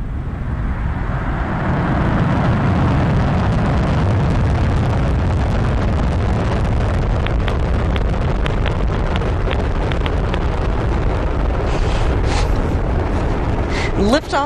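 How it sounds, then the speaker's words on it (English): An Atlas V rocket carrying twin spacecraft lifts off, a loud, continuous roaring rumble that fills the scene with steady broadband power and crackle for the whole stretch, with wind buffeting the microphone. "Lift off the Atlas V rocket and twin spacecraft on a mission to unlock the mysteries of Earth's Van Allen belts."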